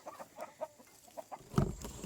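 Backyard chickens cluck softly in short, scattered calls, faint and fairly close, followed by a louder burst of handling noise near the end.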